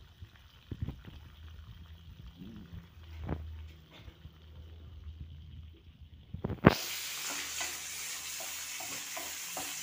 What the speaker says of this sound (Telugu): కొద్దిగా ఫ్రై అవనిద్దాం ఆనియన్ లైట్గానే